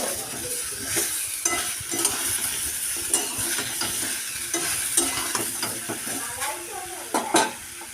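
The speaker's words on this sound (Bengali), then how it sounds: "ভালো করে সবজিগুলো ভেজে নিলাম" Vegetables frying in a pan for a prawn ghonto recipe, a steady close sizzle with repeated scraping and clinking of a utensil being stirred against the pan.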